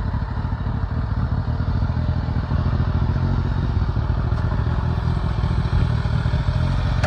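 A Campagna T-Rex three-wheeler on the move, its engine giving a loud, steady, buzzing roar with some clatter, heard up close and without a break.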